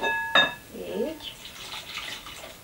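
Cold water pours onto flaxseed flour dough in a bowl, a soft close trickle and splash in irregular bursts, with a brief clink and a voice heard at the start.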